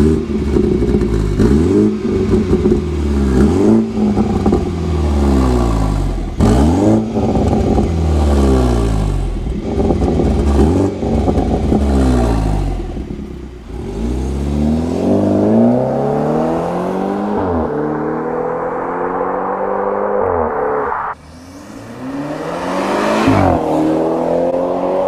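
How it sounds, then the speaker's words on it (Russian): A BMW 320i xDrive with M package revs hard under acceleration, its engine and exhaust rising in repeated loud climbing sweeps between gear changes, with a brief lift-off near the end before pulling again; no speech. "Если там втопить в пол, то уже будет рыкать."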